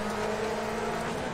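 Race car engine in the rFactor 2 racing simulator, a deep, steady drone held at roughly constant revs for the whole moment, loud and close with no voices over it.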